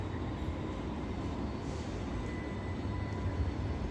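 A tram passing at Circular Quay in central Sydney, near the Opera House, makes a steady loud rumble and rolling roar that holds evenly throughout, with no voices.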